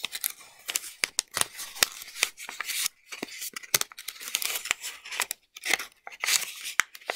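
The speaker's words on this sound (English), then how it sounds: "There's a crackle of the paper." Origami paper being creased and folded for a lily, giving close, crisp crackles and sharp snaps in irregular bursts with short quiet gaps between them.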